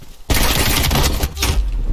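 Loud, dense bursts of automatic gunfire from a Call of Duty Cold War match start abruptly after a brief quiet moment, pause for an instant, then resume close and heavy.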